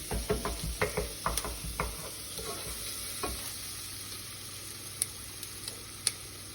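Sauce bubbling and sizzling in a pan, with a burst of rhythmic scraping stirs at the start, then a steady frying hiss broken by occasional sharp clicks.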